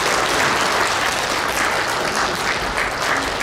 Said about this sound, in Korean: 선비춤을 보여준 여러분들께 다시 한번 큰 박수 부탁드리겠습니다